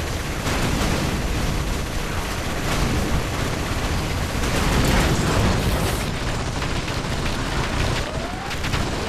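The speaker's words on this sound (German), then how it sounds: "Wieder explodieren." Explosions in the real-time strategy game Command & Conquer: Generals Zero Hour with the Contra mod, a dense wash of overlapping booms, blasts and crackling debris that swells and fades continuously without pause.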